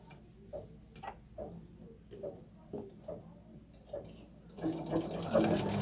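An embroidery machine sews a placement stitch for a quilt block, with a quiet run of regular ticking needle strikes about twice a second, then a denser, louder whirring burst at the end.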